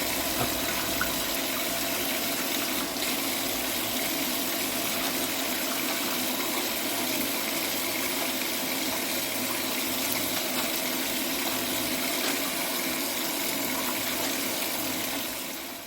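Tap water runs steadily as hands are washed beneath it, a loud continuous splashing rush that goes on unbroken and then fades slightly at the end, with no talk.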